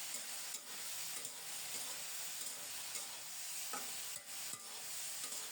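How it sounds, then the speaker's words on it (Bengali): Okra fries with turmeric in a pan, giving a soft, steady sizzle broken by several scraping stirs of a spatula, all quiet and close. "এখন দেব 1/2 চা চামচ হলুদ গুঁড়ো। আবারও 1-2 মিনিট ভেজে নেব।"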